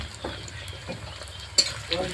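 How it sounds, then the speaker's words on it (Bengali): Ground spice pastes of dried red chilli, ginger and cumin fry with garlic in a pan for a chicken curry, a soft steady sizzle with occasional scraping stirs and a sharper clink near the end. "মশলাটাকে খুব ভালো করে কষিয়ে নিই।"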